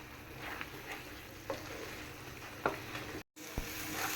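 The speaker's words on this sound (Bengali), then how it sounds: "আর এই যে কলার মোচাটা আমি একদম ভাজা ভাজা করব" Banana flower fries in a pan with a soft, continuous sizzle broken by a few faint clicks and scrapes of stirring, close but quiet.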